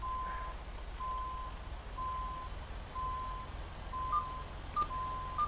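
Reversing beeps from a truck in the American Truck Simulator game, a steady tone repeating roughly once per second over a low engine rumble, with a few faint higher blips near the end.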